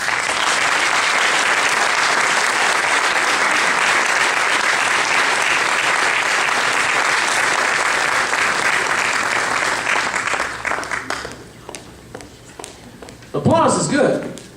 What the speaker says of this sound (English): Applause is good.